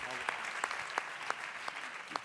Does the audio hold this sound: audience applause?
yes